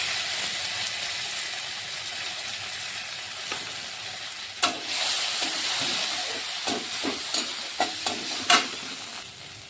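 Mustard paste and poppy seed paste hit hot oil in a pan for a Bengali bottle gourd greens dish, giving a continuous hiss and sizzle broken by a run of sharp scraping taps from stirring in the second half.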